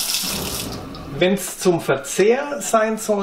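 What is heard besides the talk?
water running from a separate reverse osmosis tap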